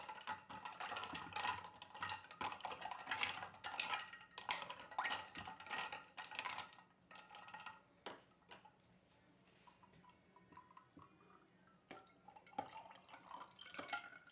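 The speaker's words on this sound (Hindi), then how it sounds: "चम्मच की मदद से अच्छी तरह से मिक्स कर लेंगे।" A spoon stirs tamarind sharbat in a cup, clinking and tapping against the sides in quick irregular bursts with faint liquid swishing, close and quiet, thinning out toward the end.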